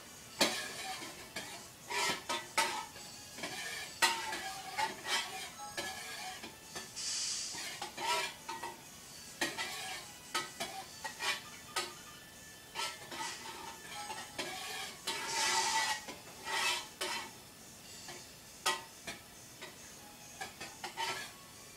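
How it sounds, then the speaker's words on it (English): Close, quiet scraping and light clinks of a utensil stirring fragrance oil into melted soy candle wax in a container, in irregular bursts over about twenty seconds with no talking. "The reason why they want you to stir it gently for 2 minutes is to incorporate the scent into your wax."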